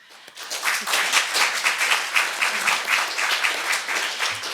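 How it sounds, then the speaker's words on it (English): A crowd gives sustained applause at a sexual assault awareness press conference. Dense, close clapping starts abruptly and carries on evenly for several seconds, gently rising and falling, with no speech over it. "So give yourself a round of applause."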